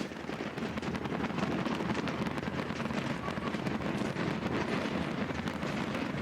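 A fireworks display at a softball game rumbles on continuously, a dense wash of crackling bursts and booming pops blending into a steady, loud roar with no pauses throughout.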